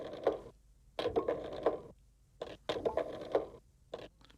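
A telephone rings in a PlayStation toy-story game cutscene, with bursts of buzzy ringing repeating in a steady on-off rhythm and clear, moderately loud.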